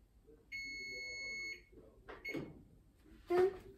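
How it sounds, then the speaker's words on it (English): A kitchen timer beeps in a home kitchen while reindeer candies are being made, with one long steady electronic tone followed by shorter bursts and clatter, along with handling noise and a brief voice. "the timer doesn't want to turn off"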